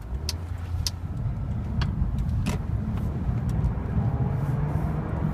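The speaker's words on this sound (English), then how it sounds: "See, acceleration isn't that bad. This isn't exactly full throttle. This is about halfway." Inside a 2008 Lexus IS250 pulling away at about half throttle, a soft, steady engine hum and road rumble rise gradually beneath a few faint clicks and ticks, quiet and even throughout.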